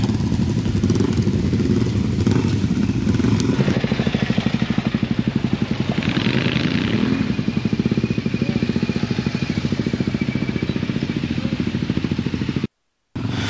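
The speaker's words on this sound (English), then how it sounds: "So here we have the guys putting their last bit of training into action where they were doing the leaning on the bike, going really slow" Adventure motorcycles ride slowly during a skills training session in South Australia, a steady low engine putter and clatter running throughout at close range, with faint outdoor background.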